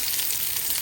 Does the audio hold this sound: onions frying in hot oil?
yes